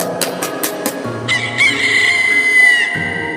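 A rooster crows loudly up close, its long drawn-out call following a few quick clucks.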